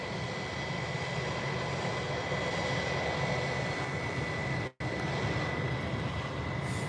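An airliner from Germany comes in to land at Birmingham Airport after a go-around, its engines a loud, steady broadband roar that holds without a break. No one speaks.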